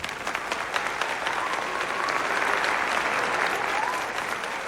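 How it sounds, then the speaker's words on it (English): House members give a loud, sustained wave of bipartisan applause, dense clapping with cheering mixed in and steady intensity throughout. "the majority of the House erupts into bipartisan applause, many members rising to their feet and cheering"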